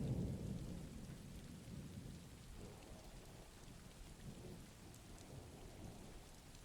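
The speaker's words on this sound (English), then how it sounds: "Hope you enjoy the rain sounds." Steady rain falls with a deep rumble of thunder rolling underneath, a continuous soft wash of drops that stays even and moderately quiet throughout, with no voices.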